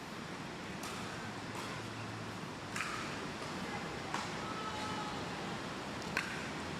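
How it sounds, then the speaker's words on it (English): A dense, steady hiss of heavy rain pouring on a roof fills the background of a men's singles match, broken by a few sharp knocks and clicks, with faint voices now and then. "I don't know if you can hear the rain pouring down in the background"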